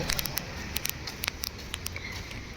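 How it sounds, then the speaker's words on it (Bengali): Heavy rain pours outdoors, a continuous hiss of falling water broken by sharp, close drips and splashes that tap irregularly throughout at a fairly low level. "এখন বৃষ্টি দিচ্ছে বৃষ্টি"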